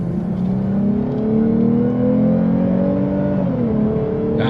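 A 2022 Lexus IS 350 F Sport engine pulls steadily under light throttle, its tone climbing smoothly, then dipping briefly near the end before settling, loud and close with no talk.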